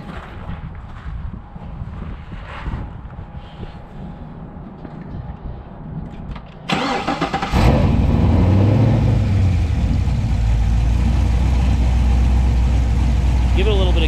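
A 2007 Chevrolet Corvette Z06 V8 fires up about halfway through, jumping from a quiet room of background talk to a loud, steady engine rumble that rises in a brief rev and settles into a strong idle close by.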